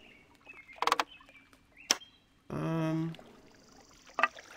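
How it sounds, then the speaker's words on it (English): Water ambience in the video game Lost Lands 4: quiet lapping with a few soft splashes and sparse bird-like chirps, plus a brief tonal chime partway through. "I do love the water sound"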